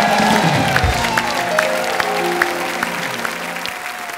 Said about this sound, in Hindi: के लिए खुल के तालियां।